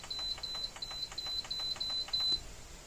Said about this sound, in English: Setting the timer, it's 27 minutes.